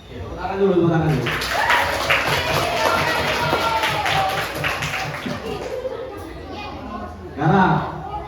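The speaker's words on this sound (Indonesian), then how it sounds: "Tepuk tangan dulu." Children in a classroom clap their hands together in a burst of overlapping claps mixed with chatter, followed by a teacher talking, with a brief louder clatter near the end.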